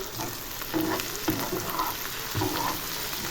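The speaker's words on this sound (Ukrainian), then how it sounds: "Зараз підсмажу до золотистої, до золотистого кольору цибульку" Chopped onion fries in a pan, a steady close sizzle with occasional stirring scrapes and crackles, no voices over it.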